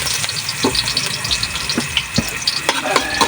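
Sliced ginger sautés in a hot pan for a coconut-milk dish cooked outdoors on a farm, with a steady bright sizzle and occasional stirring scrapes and taps close by.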